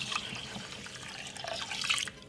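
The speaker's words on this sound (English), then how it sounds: "So I'm gonna put some water inside of it like this." Water poured from a tap into a pot of rice for Jamaican curry rice, a steady close splashing flow with some dripping that fills the whole moment.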